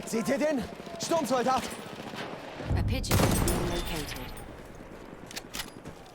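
Gunfire in the video game Battlefield 1, with several sharp shots and bursts cracking amid game sounds while someone commentates excitedly over them.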